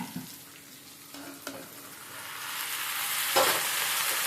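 Okra (bendakaya) goes into hot oil with curry leaves: a few light clinks and stirs, then a sizzle that swells into a steady, loud frying hiss, close and without talk.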